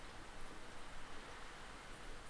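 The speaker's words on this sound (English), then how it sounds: "It's a rainy one here in Ireland." Rain falls steadily in rural Ireland near a cottage, a soft, even hiss of drops on surfaces at moderate distance, with no speech.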